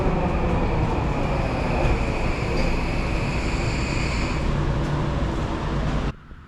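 Steady rumble of a Vancouver SkyTrain metro train in motion, with a constant high whine and rattling, running continuously before cutting off abruptly near the end.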